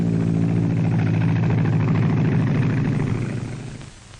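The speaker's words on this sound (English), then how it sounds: "Now the pilot takes off on his trip north." Aircraft engine of a 1940s-era plane taking off at an airport, a loud steady low droning roar with propeller-like pulsing that holds through most of the clip, then fades away toward the end.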